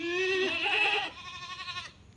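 Goats on a farm bleat close by, one long wavering cry and then a shorter, quieter bleat, with no talk.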